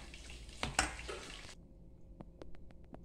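Carrot, cucumber and onion are stirred together with lemon juice and oregano, giving a short burst of close, quiet scraping and wet rustling, then a few light utensil taps.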